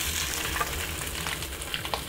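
Fish pieces sizzle and fry in hot oil in a wok over medium heat after garlic was fried, for boiled fish with pickled mustard greens. A steady crackling hiss with small pops comes through close and alone, with no talking.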